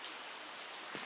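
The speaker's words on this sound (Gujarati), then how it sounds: "વરસાદ ચાલુ છે" Light monsoon drizzle falls in a village beside a pond, a soft, even patter of raindrops hissing steadily on surfaces, fairly quiet and without voices.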